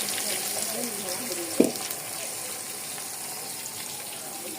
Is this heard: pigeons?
no